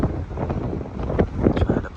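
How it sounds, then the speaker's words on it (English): Strong gusty wind buffets the microphone along old Route 66 in Illinois, a broad rumbling roar that swells and dips throughout, with people talking underneath. "it is retardedly windy"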